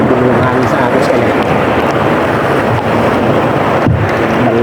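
Strong wind buffets the microphone over the wash of waves at sea, a constant roaring noise with a brief gusty thump near the end.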